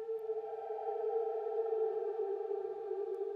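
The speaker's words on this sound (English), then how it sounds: "To hear the dry synth signal." Dry synth tone with no spectral reverb, a steady sustained note with strong harmonics held evenly at moderate level throughout, alone with no voice.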